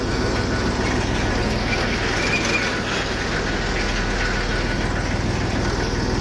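A small Massey 35 tractor hauls a loaded sugarcane trolley, its engine and rattling trolley making a loud, continuous rumble with clanking and rolling noise throughout.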